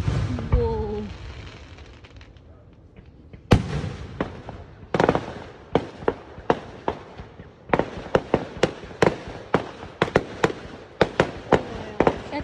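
Canada Day fireworks burst in a rapid series of sharp bangs and crackles, loud and close, with a few voices talking and calling out between the blasts.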